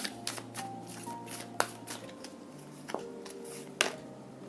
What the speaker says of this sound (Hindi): Let me take more cards from this one.